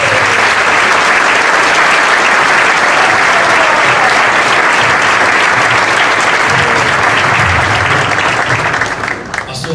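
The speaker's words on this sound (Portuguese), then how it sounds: "E nós vamos receber então esses irmãos com uma salva de palmas." Sustained, loud applause from a large church congregation, steady throughout and tapering slightly at the very end.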